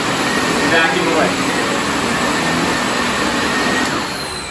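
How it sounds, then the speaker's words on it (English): A Sebo Felix vacuum cleaner runs with its brush on carpet, making a loud, close, steady whirring drone that eases slightly toward the end. "Back to the carpet, we're going to turn the brush back on and vacuum away."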